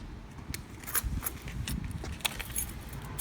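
Keys jangle and clink in short, irregular bursts near a Mazda RX-8 with a 13B REW rotary engine in a garage, rattling repeatedly over a low rumble of background noise.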